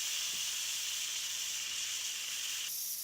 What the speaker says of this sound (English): That's the steam release button.